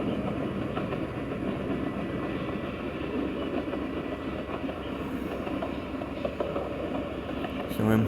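A train runs steadily in a video game with a continuous rumble and rhythmic clatter throughout, up close, and a brief sharper squeal right at the end.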